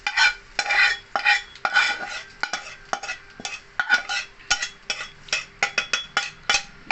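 A spoon stirs a fried tempering into a moong dal idli batter in a bowl, producing repeated wet scraping and clinking strokes in an uneven rhythm, close and clear with no talk.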